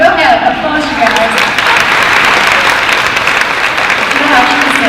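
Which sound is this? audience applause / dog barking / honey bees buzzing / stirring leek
audience applause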